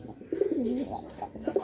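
Ablook pigeon giving a short, close coo phrase with a rising and falling throaty warble, then a brief pause and a second shorter coo, alone and moderately loud.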